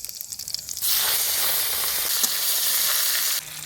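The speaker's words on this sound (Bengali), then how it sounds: "কড়াইতে তেল গরম হয়ে গেছে পাঁচ ফোড়ন গোটা জিরে দিয়ে কাতলা মাছের তেলটা দিয়ে দিব" Panch phoron, whole cumin and fresh katla fish fat drop into hot oil in a kadai and burst into a loud, steady sizzle that holds close and strong before cutting off.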